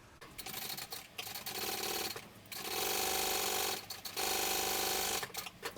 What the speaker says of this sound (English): We're going to sew these together with the seam allowance given in the pattern.